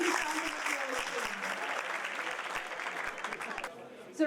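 An audience at a Karachi alumni reunion event in a hall claps together for a speaker, a dense, even round of applause that carries on for about four seconds, then cuts off abruptly.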